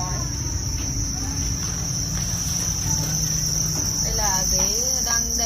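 Masses of crickets at a cricket farm keep up a loud, unbroken shrill chirping, with some faint background voices rising near the end.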